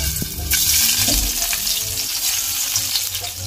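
Onion crackles and sizzles in hot oil in a pan, a close, busy frying hiss with a few louder pops near the start.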